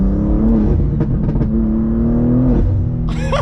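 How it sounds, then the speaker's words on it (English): A tuned 720WHP 2023 BMW M2 with a turbo drones under load, then a short, sharp hissing burst of turbo blow-off sounds near the end. "Listen to the turbo blow off."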